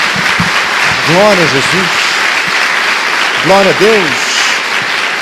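Congregation clapping in a church service: a steady wash of applause runs throughout while voices call out praises over it.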